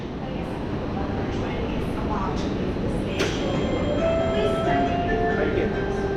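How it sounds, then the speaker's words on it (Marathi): An airport metro train in Thailand rumbles steadily from inside the carriage, with faint squeals, a clunk and tonal hums rising over the constant rolling noise, while people talk nearby. "थायलंडमध्ये नाही आपल्याला एअरपोर्टमधनं बाहेर निघायसाठी अशी मेट्रो आहे."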